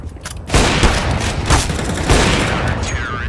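Rapid gunfire from Counter-Strike: Global Offensive, loud bursts of shots in repeated volleys at close range with a steady game background throughout.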